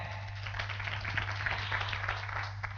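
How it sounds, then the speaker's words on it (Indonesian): An audience at a seminar gives a round of applause, a dense, fairly soft patter of many hands at a steady level, with a constant low electrical hum underneath. "saya mohon tepuk tangan dulu buat sahabat saya Bapak Triadi Joko ya."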